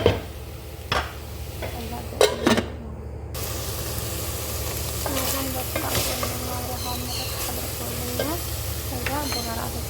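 Onions sizzle steadily in a hot pan for a lasagna sauce, with occasional louder scrapes and clacks as they are stirred; the frying runs continuously throughout and no one speaks.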